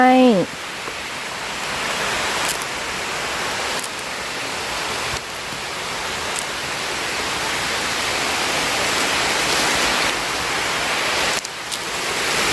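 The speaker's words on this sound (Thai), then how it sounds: "ได้ยินเสียงฝนมาบ่พี่น้อง จากจากมา แต่ไกลเลย" Heavy rain falls in a forest in northern Thailand during mushroom gathering, a dense, even hiss that swells gradually louder after a brief tone at the start.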